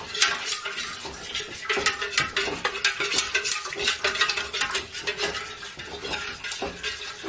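A utensil stirs a candle-making mixture in a container, making a fast, steady series of close scraping and sloshing strokes that continues throughout.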